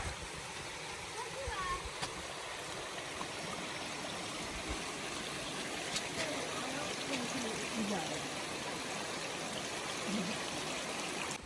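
A mountain stream on the trail to Grotto Falls in the Great Smoky Mountains rushes steadily and fairly loud throughout, a continuous broadband wash of flowing water with brief faint bird-like chirps over it.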